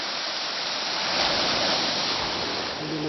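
Ocean waves washing onto the beach at Teluk Tanah Merah, Jayapura, Papua, a loud continuous broadband rush of surf with no break and no talking.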